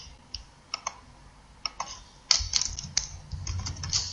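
Typing on a computer keyboard while entering train journey details online, a series of sharp key clicks, sparse at first and then quicker and denser, close and clear with a faint low hum behind.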